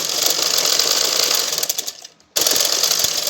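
A sewing machine stitches a blouse seam in a steady, loud mechanical whir that cuts out briefly near the end before running again, with no talking.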